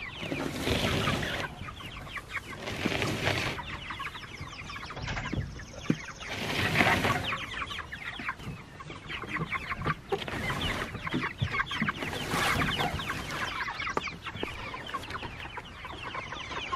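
Chickens cluck and call steadily out in a fresh pasture beside a barn, several birds near and far forming a continuous, moderately quiet farmyard chatter with occasional louder squawks.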